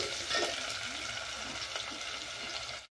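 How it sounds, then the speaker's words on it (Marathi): Chopped onion sautéing in a pan for a sour dal, giving a steady close sizzle and frying hiss with faint stirring scrapes, heard alone for about three seconds before it cuts off. "कांदा छान परतून घ्यायचा आहे आपल्याला"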